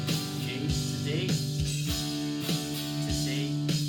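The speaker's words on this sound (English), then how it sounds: "Okay, so along to the drums," Guitar strumming the chorus chords of a song along to a steady drum beat with regular kick thumps, sustained and moderately quiet throughout.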